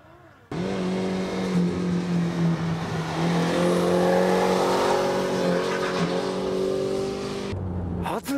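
A Toyota HiAce van engine revs loud and sustained for several seconds during a drift run, its droning note rising and wavering before cutting off.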